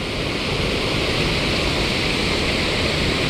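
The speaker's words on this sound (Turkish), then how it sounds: "Oo, şelale gerçekten çok Şiddetli atıyor ha." Düden Waterfall in Antalya pours down hard, producing a loud, steady, broadband roar of rushing water that stays constant throughout with no other sounds distinguishable.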